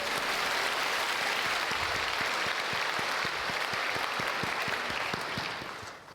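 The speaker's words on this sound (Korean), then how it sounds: "하나님께 영광의 박수 올려드립니다" A church congregation at a Sunday worship service claps loudly and steadily for several seconds, a dense continuous applause that fades out at the end.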